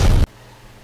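A single loud grenade blast in Call of Duty Black Ops Cold War, a sharp booming burst lasting a fraction of a second before cutting to a faint, quiet background.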